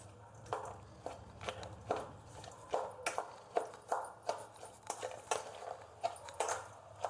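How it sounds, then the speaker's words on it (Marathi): A spoon clinks and scrapes in a bowl of pounded onion-tomato chutney, giving a steady run of light taps and scrapes, close up and alone. "आता हे चमच्याने मिक्स करून घेऊ"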